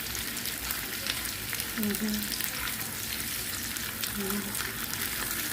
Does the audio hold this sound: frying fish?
yes